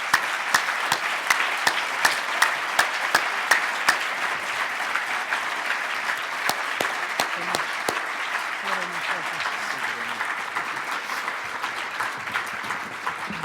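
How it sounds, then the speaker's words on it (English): A room full of people claps steadily, a dense patter of hands at moderate distance that slowly thins toward the end. "Let's give them a round of applause."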